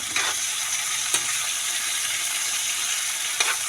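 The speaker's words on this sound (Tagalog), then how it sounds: "Igisa muna natin to." Vegetables sauté in a pan for ginisang gulay, giving a continuous close sizzle with a few sharp stirring clicks of the spatula.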